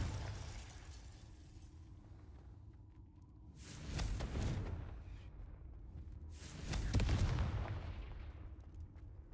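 Two heavy blasts of spell impacts from a magic duel in the video game Hogwarts Legacy, an icy Glacius strike and a fiery Confringo explosion, each a loud booming burst a few seconds apart over a steady low background rumble.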